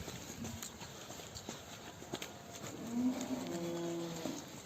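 A donkey's hooves clip-clop through deep mud and waterlogged potholes on a rural road in Ceylanpınar, the steps close and irregular, with a low tonal hum rising briefly near the end.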